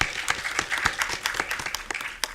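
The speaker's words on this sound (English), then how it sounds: "give the team from Investors Bank a round of applause" An audience at a college entrepreneur pitch contest gives a round of applause that sounds moderately thin, with distinct individual claps standing out over a light continuous patter.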